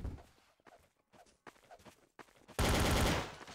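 Gunshots fire in the video game Garry's Mod TTT, first several sharp, spaced shots and scuffling steps, then a loud, dense burst of rapid fire near the end.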